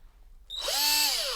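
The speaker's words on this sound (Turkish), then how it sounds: "Melek, bu matkap ne işine yarayacak" A power drill whirs up from silence and keeps running at a steady high pitch, loud and close, with no voices.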